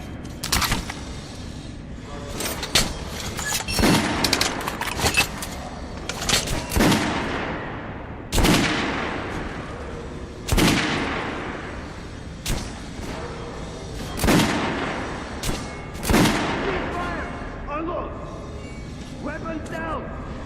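Gunfire from the video game Metro: Last Light Redux, a series of sharp, loud single shots spaced a second or two apart, each ringing out with a short echoing tail, and voices can be heard between them.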